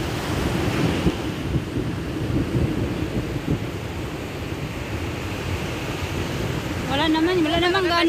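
Steady roar of ocean surf in Lebanon with wind rumbling across the microphone, a continuous wash of waves throughout, and a faint high whine near the end.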